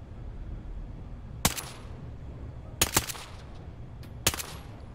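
Gunfire in the tactical shooter game Ready or Not: a single sharp shot, then a quick double, then another single shot, all moderately loud against a low steady background rumble.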